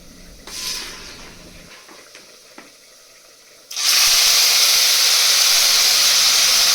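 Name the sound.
narthangai citron pickle being tempered in plenty of hot oil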